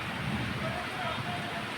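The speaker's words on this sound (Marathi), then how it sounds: "आलं पाऊस आलं." Steady rain falls as a dense, even hiss, close by and moderately loud, with faint voices underneath.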